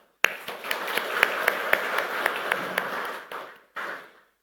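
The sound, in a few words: applause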